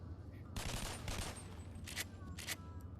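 Pistol gunshots in the VR game BoneLab ring out as a quick series of sharp, bright cracks in small clusters, sitting over a steady low game hum.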